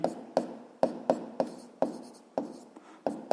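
Pen strokes write out a physics formula in a quick, regular series of about eight crisp taps and scratches, close and clear, with no voices.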